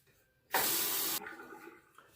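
A Feather adjustable razor is rinsed under running tap water: a sudden loud hissing burst of water lasting under a second, then a faint trickle and drip fading out.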